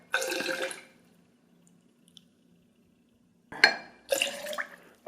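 Water is poured a little at a time onto oil in a container, giving short splashy trickles separated by silence, quiet and close.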